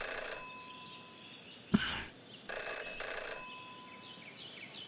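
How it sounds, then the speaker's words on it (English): A telephone bell ringing in the detective video game Mask of Jenny LeClue: two bursts of harsh metallic trilling, clear and fairly loud, separated by a short gap with a sharp click between them, no talk. "never to ignore a ringing phone"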